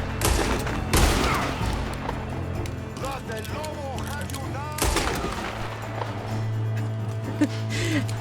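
Gunfire in the Western video game Red Dead Redemption 2, with a couple of sharp shots ringing out over game ambience and horse sounds, while a voice talks over parts of the scene.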